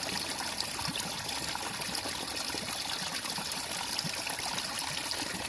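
Water trickles and burbles along a small natural stream outdoors, a steady, even wash of soft splashing that continues unbroken and fairly close, with no voices.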